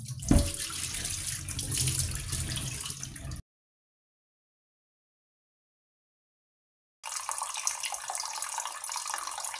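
Steady running tap water splashing into a sink while rinsing raw meat, cut off by a few seconds of silence, then the flow resumes just as strongly.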